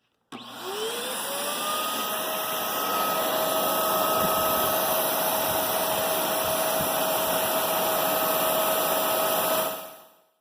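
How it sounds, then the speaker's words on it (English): A vacuum cleaner powered by a DIY solar generator whirs up to full speed and runs as a loud steady motor roar with a high whine for about nine seconds, then shuts off and winds down. "Let's just give it another test, but using just a vacuum machine."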